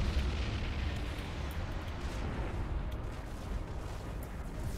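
Continuous rumbling explosions from the multiplayer video game BF Gothic Armada II, dense overlapping booms and blasts forming a loud, sustained barrage without speech.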